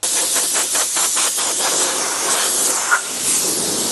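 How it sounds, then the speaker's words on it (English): Compressed air blasting across the wooden body of a guitar to blow out the grain before sealing, a loud continuous hiss close by with faint pulsing at the start and a short click partway through. "So what we're going to do is blow the grain out."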